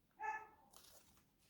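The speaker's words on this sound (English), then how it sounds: "Hannah's barking in our bedroom" A dog named Hannah barks once from a bedroom, a single short, faint, distant bark followed by quiet room noise.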